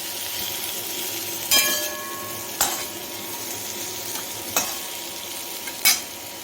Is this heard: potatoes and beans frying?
yes